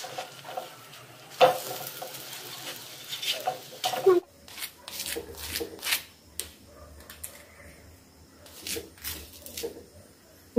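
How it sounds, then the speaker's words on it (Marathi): Sandwiches toasting crisp in a pan over a flame, a soft crackling sizzle with scattered scrapes and handling clicks, faint throughout. "फ्लेमवर सँडविचेस दोन्ही बाजूने चांगली क्रिस्पी होईपर्यंत भाजून घ्यायचे आहेत।"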